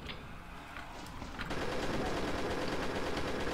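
A chain gun firing in the video game Pirate Doom, a sudden onset of continuous rapid gunfire that holds steady and loud over a busy game background.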